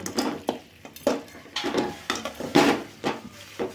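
Pirandai (adamant creeper) sautéed for chutney: repeated scraping and stirring strokes of a spatula against a pan with a light sizzle beneath, close and fairly loud, in an irregular rhythm of bursts about every half second.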